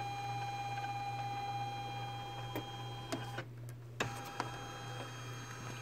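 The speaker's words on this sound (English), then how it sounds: "So I press the trace button on my machine." A Janome 350E embroidery machine traces the outline of a design, moving its hoop with a steady motor hum and a few soft clicks near the end, with no talk.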